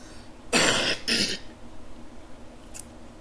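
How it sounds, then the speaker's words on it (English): Two quick, harsh throat clears close up, then a brief faint click in a quiet room. "excuse me, I clear my throat"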